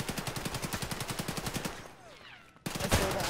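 Rapid automatic gunfire in the shooter game Escape From Tarkov, a fast rhythmic burst of about twenty shots lasting over a second and a half, then a pause and a louder, harsher blast of fire.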